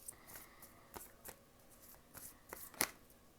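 Tarot cards being shuffled by hand, heard as soft, faint riffling bursts and light slaps coming in an uneven rhythm at close range in a quiet room.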